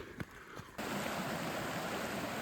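A wide, shallow creek crossing a hiking trail in misty woods, heard as a broad steady rush of flowing water that rises suddenly after a few faint knocks and stays constant, near and moderately loud.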